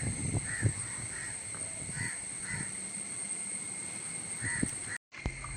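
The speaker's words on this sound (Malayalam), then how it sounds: "ചുറ്റും കാക്കള കരച്ചിലാണ്." Crows caw repeatedly all around, harsh calls at middling distance overlapping across several seconds over a steady background hum, with no talking.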